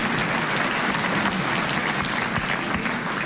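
A studio audience bursts into steady, dense applause after a correct quiz answer, a continuous clatter of many hands clapping with no pause throughout.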